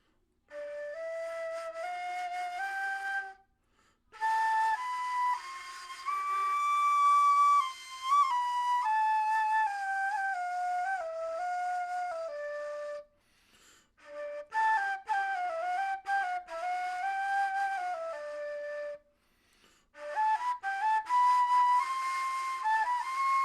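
A sustained melodic instrument plays the Rast maqam scale, two Rast tetrachords stacked, in smooth stepwise notes, rising and falling in several phrases separated by brief pauses, with no voices.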